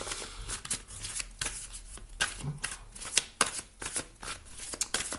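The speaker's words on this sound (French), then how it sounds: "vous pouvez avancer sur la bande passante lorsque je brasse les cartes" Tarot cards shuffled by hand at close range, a continuous soft riffling and slapping with irregular crisp flicks, quiet and steady with no talk.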